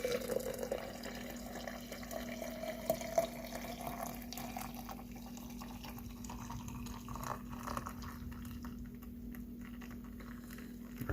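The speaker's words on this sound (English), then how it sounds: "I got ourselves some boiling water." Boiling water pours steadily from a kettle into a French press during an outdoor brisket cook, a continuous soft splashing and trickling stream with a low steady hum beneath it.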